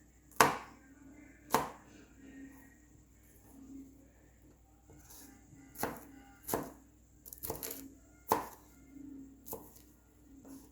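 Salad ingredients are cut into small bite-sized pieces with a knife on a cutting board, giving a series of crisp, separate chops at an irregular pace, some close together, against a quiet room.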